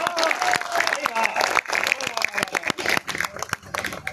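Audience at a Hindi poetry recital (kavi sammelan) breaking into scattered clapping, a dense crackle of many hands rising and falling beneath an amplified voice talking over it.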